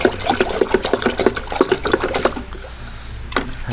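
Yeast being stirred into water for a daphnia culture, a rapid series of splashy, sloshing strokes in a container that slows and thins into a quieter trickle near the end.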